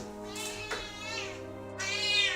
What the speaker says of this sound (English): All right, I brought the cat out, guys.